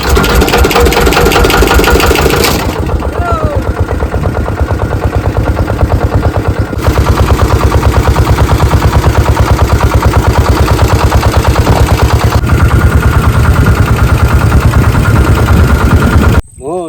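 Motor boat engine starting up and then running steadily, a loud rapid chugging putter close by that continues without a break, with a short shift in tone partway through.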